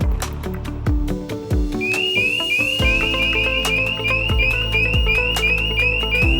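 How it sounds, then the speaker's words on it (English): A steady, piercing electronic alarm tone from a TX7300 fire alarm sounder strobe repeats in short rapid pulses over loud, rhythmic background music. "Test the strobe and sounder tone via the linkage with MCP."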